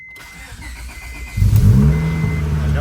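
A Honda Type R's engine turns over and catches about halfway through, jumping from quiet cranking to a loud, steady idle nearby, with no voices.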